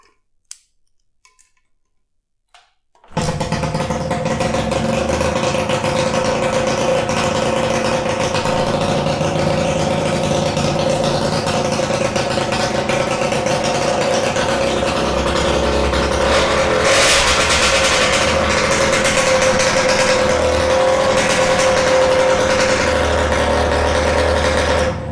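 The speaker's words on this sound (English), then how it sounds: "let's try out the bike and see if it fires up" A Peugeot Fox Deluxe 50cc moped engine catches after a few faint clicks, then runs loud and buzzy close by, revving up and down in a continuous two-stroke rattle.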